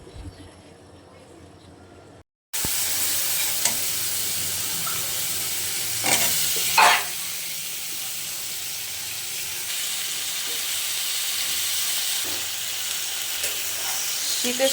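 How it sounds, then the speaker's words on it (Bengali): Cabbage, flat beans, potato, pointed gourd and shrimp stir-fry in a pan. A dense, steady sizzle starts suddenly after a brief quiet moment and continues loud and close, with a couple of louder stirring scrapes partway through. "আজকে রান্না করব, পাতাকপি ভাজি করব, সিম, আলু, পটল, চিংড়ি মাছ দিয়ে"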